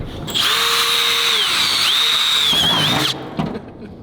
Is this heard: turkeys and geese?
no